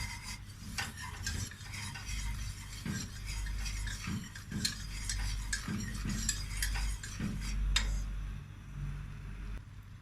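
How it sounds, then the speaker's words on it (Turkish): Butter and cornmeal roasting in a pot for a smooth soup, stirred steadily with a spoon that scrapes and taps against the pot over ten seconds, close and moderately loud with no talking. "Mısır unuyla birlikte tereyağını iyice kavuralım"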